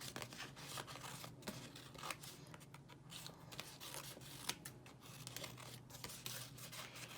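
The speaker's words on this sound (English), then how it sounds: "Get the scissors. Cut your tree around." Repeated snipping and rustling of scissors cutting through paper, close and quiet, with soft handling noises between cuts.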